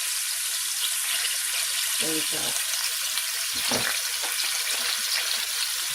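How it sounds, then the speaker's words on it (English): Onions and garlic sizzle and crackle steadily in a hot pan, a constant frying hiss, with a few brief spoken words partway through. "Get our onions and our garlic in here. Frying it."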